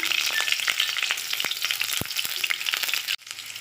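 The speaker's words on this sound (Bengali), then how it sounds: "কাঁচা লঙ্কা আর কালো জিরা একটু ভাজা ভাজা হয়ে গেছে" Green chillies and nigella seeds frying in hot mustard oil in a kadai, a loud, dense, continuous crackling sizzle heard up close with scattered pops, then a brief dip near the end.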